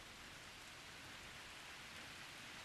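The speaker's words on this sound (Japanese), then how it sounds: "よく降る雨だけど、" Steady rain falls in a constant soft hiss of many drops on surfaces, faint and even throughout with no voices.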